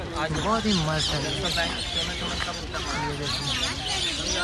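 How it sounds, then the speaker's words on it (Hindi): Birds chirp and tweet among the trees of Lalbagh Botanical Garden in Bengaluru, a steady stream of close, bright calls running alongside someone talking over them. "चिड़िया की चहचहाहट सुनिए आप"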